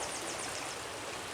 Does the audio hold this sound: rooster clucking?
no